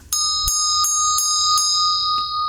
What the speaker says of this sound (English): I'm just kind of moving my fingers like this and waving the bell